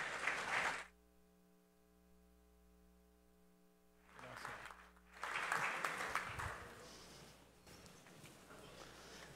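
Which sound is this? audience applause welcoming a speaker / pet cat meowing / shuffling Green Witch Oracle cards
audience applause welcoming a speaker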